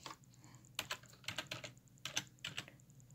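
Close keyboard typing in short irregular bursts of clicky keystrokes, fairly quiet and with no voices.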